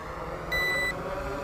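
A Banyangtoys X21 quadcopter drone flying back to its take-off point gives one short, clear electronic beep over a steady background hum.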